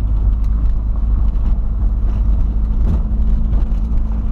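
A boxy Volkswagen Voyage drives along a potholed dirt road, its steady low engine drone and road rumble filling the cabin loudly and continuously, with no speech.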